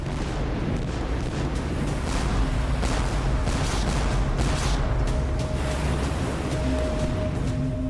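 Warship cannon fire rolls through an animated naval battle off Copenhagen, dull booms and rumbling blasts repeating over a loud, continuous wash of sea and smoke-filled ambience, with no voices.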